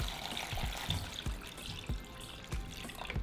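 Water runs steadily from a tap with a hissing splash as chiles are rinsed, broken by soft knocks and thumps as they are moved under the stream.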